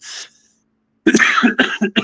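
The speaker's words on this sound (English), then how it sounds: "Excuse me, I still got this cough." A man coughs several times in a short burst: one brief cough, a pause, then a rapid cluster of harsh, close coughs.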